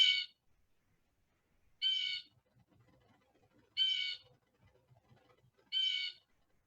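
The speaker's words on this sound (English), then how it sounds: "This first one I have for you is called a blue jay, and it makes a sound like this." Blue jay calling four times at even intervals of roughly two seconds, each harsh, buzzy bird call loud and clear against a quiet background with faint low rustling between.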